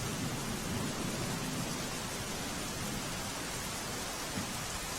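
Heavy rain pours steadily in Banaskantha near the India-Pakistan border, a dense broadband hiss, constant and even throughout with a low rumble underneath; no voices.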